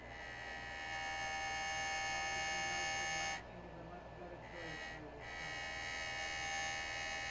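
A Jooltool machine polishing a sapphire cabochon, a steady electric whine and hum that drops in pitch briefly twice as the stone is pressed, close, with a voice faintly under it.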